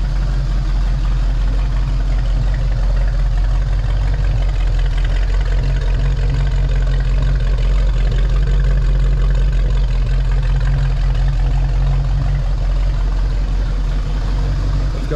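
A 1976 Ford Mustang II with a 302 V8 idling steadily in a showroom, a loud, even low rumble with a constant throb and no voices over it.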